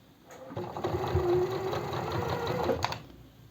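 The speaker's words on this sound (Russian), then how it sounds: "И вот так даю строчку" A sewing machine runs a steady stitching burst along a blouse seam, a close continuous mechanical whir lasting a few seconds, with no talking over it.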